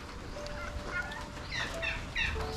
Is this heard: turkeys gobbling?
yes